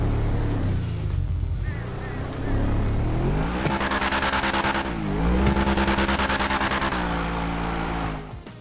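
The Truffade Adder supercar with its W16 engine in GTA Online roars loudly, revving up and shifting through gears in rising and falling sweeps, a brief dip mid-run, then easing off at the end.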